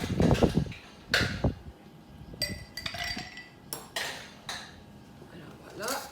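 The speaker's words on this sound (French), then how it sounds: "c'est un cocktail qu'on mélange" Ice cubes clink and rattle against a mixing glass as a Manhattan cocktail is stirred at a bar, close and bright, in irregular bursts with brief pauses between them.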